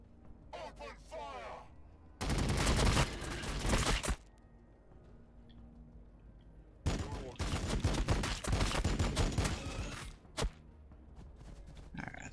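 Bursts of gunfire in the Warhammer 40k Battlesector video game, two loud sustained volleys of rapid shots, each lasting about two seconds and separated by quieter stretches with faint voices in between.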